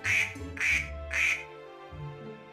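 Ducks in the Roblox game BEAKS give three loud, nasal quacks in quick even succession, followed by a quieter, lower squawk.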